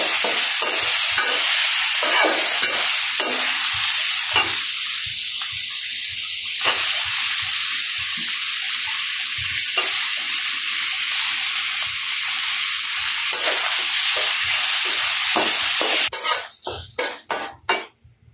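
Tomatoes frying in a hot pan give a steady, loud broadband sizzle with occasional stirring scrapes, ending in a few sharp clattering knocks.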